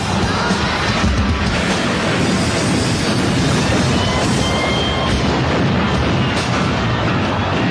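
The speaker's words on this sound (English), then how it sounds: "they set off an intense showcase of pyrotechnics, simulating bombs being dropped and destroying the city" Pyrotechnics simulating falling bombs at a rock concert in Buenos Aires produce a dense, continuous roar of booms and crashes that stays loud and unbroken throughout.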